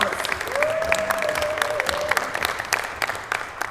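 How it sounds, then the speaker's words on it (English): Steady applause from a conference audience fills the room, dense and continuous, with a faint tone drifting underneath. "Let's give them all a nice big round of applause."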